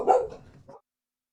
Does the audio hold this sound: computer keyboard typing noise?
no